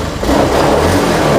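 Fuel-injected motorcycle engine, one that had sat unused for a long time, running loud and close, rising in a rev and then settling back down over a steady low rumble.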